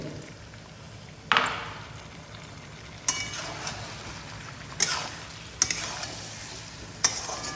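Spice masala being stirred and sautéed in a pan for a Bengali chicken with yam curry, with a low steady sizzle and several sharp scraping clinks of a spatula against the pan at irregular intervals.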